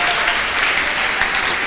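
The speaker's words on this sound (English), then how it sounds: "Let's give the Lord a round of applause." A church congregation claps together in sustained, dense applause that holds steady throughout, loud and close, with no speech over it.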